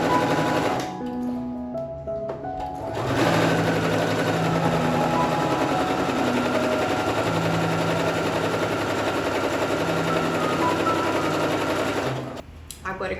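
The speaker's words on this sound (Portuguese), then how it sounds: "Vou fazer uma costura de meio centímetro e depois uma costura de um pé de máquina a partir aqui da borda" A sewing machine runs steady, continuous stitches along a gathering seam on a farmhouse-style pillowcase ruffle, loud and close. It starts and stops briefly near the beginning and end, and a voice speaks softly over it.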